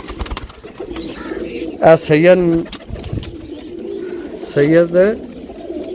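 Racing pigeons kept in pairs coo in two strong bursts, close and loud, while people talk over steady loft noise.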